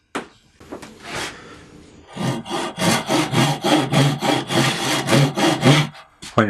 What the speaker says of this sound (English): When you're cutting this one, you need to try and follow the curve, so don't let the blade drop the whole way to the line.